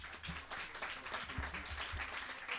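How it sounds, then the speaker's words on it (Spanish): Applause from attendees at a forum on cannabis, coca and poppy regulation, fairly faint but continuous clapping from a modest crowd, with low rumbling handling noise underneath. "Un aplauso para Aldo, por favor"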